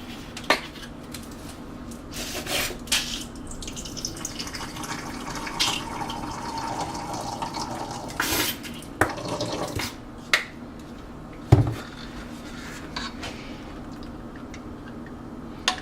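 Water pours into a pot of homemade low-carb BBQ sauce made with ketchup. It makes a close, steady splashing wash, with clinks of dishes and utensils scattered through it.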